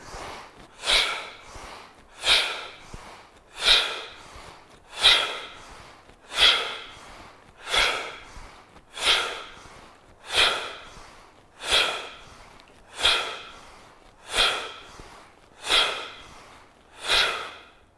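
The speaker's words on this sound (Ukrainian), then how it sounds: "трошки вгору вдих, і видих також через рот, трубочка, вдих, ніс, видих рот" Rhythmic breathing exercise for bronchial asthma: about a dozen evenly spaced breath cycles, each a short inhale through the nose followed by an exhale through pursed lips, close and fairly loud, with no talking.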